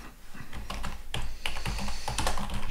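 Rapid, uneven clatter of keys on a computer keyboard, close and fairly loud, typing continuously with no voice present.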